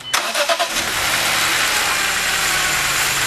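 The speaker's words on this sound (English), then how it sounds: "So we're going to start the car up so you can see what that's about." A BMW E46 M3 engine cranks with a few quick bursts, then catches and settles into a loud, steady idle roughened by a cylinder misfire, heard up close with no talking.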